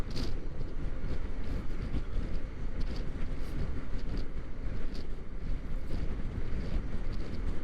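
Strong, steady wind roar buffeting the microphone continuously, broadband and loud, while riding a Honda PCX 125 scooter at speed on an open road.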